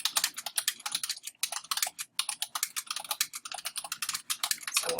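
Rapid keyboard typing on a computer, close and fairly quiet, with dense irregular keystrokes and only a brief pause in the middle.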